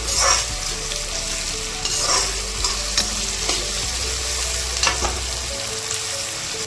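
Two onions sauté in a pan for a Kerala-style beef curry, a steady close sizzle broken by repeated scraping stirs, with no talking.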